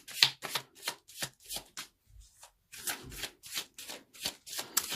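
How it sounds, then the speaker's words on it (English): Tarot cards shuffled by hand in quick, rhythmic riffles and taps, close and soft, with a short pause midway and no talk. "let's pull a few additional cards."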